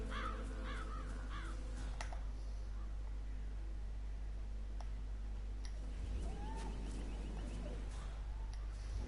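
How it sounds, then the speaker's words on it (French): Crows caw in a Hitman 3 game scene, several short hoarse calls clustered near the start and others scattered later, moderately loud over a steady low ambient hum and rustling background. "Oh, regarde tous les corbeaux qu'il y a."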